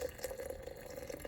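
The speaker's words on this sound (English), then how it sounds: "So what I do is actually just transfer all the hot water" Hot water is poured from a saucepan into a mason jar outdoors, making a steady, soft liquid trickle with faint splashing throughout.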